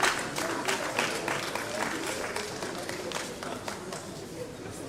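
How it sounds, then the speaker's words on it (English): A crowd applauds steadily at an academic lecture event as a university chairman walks up to speak, the clapping broad and even at moderate distance, slowly easing toward the end. "Please let's applaud him as he comes."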